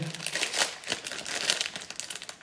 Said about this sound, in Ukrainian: давайте ще відкриємо ці два пакетика